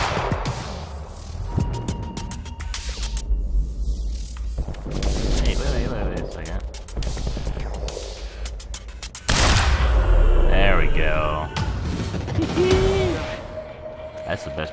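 Gunfire and mechanical weapon effects in the video game Quantum Break, dense and loud bursts of shots under game sound, with a spoken voice heard briefly among them.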